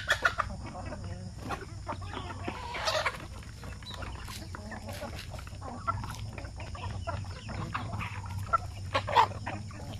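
Native chickens cluck and call at a Filipino chicken farm, a busy overlapping flock near and far over a steady low background hum.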